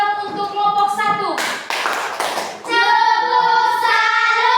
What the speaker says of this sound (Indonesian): Oke, tepuk salut untuk kelompok 1.